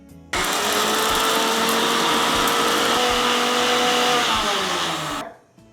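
A mixer grinder whirs loud and steady for about five seconds, grinding green chillies with salt, starting abruptly and winding down at the end, with no talking.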